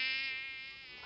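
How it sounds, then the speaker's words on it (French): A mosquito whines steadily close to the ear, a thin continuous high buzz that holds without a break and fades slightly toward the end, heard on its own. "Il y a des moustiques maintenant"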